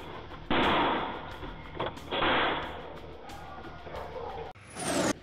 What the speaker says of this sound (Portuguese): Na saída da favela, houve mais tiros.